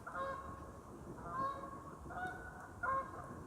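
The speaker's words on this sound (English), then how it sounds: "got some Canadian geese flying over." Canada geese honk as they fly overhead, with four bursts of nasal calls spaced about a second apart, moderately distant, and no voices.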